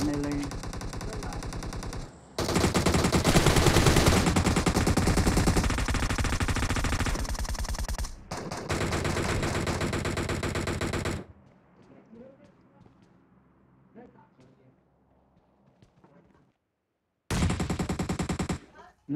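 Sustained rapid automatic fire from a Groza assault rifle in a shooting video game, loud and close, plays in long bursts that break off into quieter background game sounds before a final short burst. Players talk over it.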